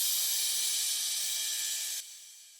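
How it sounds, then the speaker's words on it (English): A reload impact effect for an emotional progressive house track: a bright, sustained hissing wash that fades slowly and cuts off sharply near the end, leaving a quieter tail. "And then I have a reload impact."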